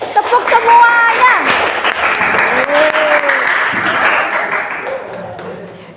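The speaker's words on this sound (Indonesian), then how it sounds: "Tepuk banyak. Tepuk semuanya." A classroom group bursts into loud, full applause, many hands clapping together at once, then tapering off with scattered voices and chatter mixed in.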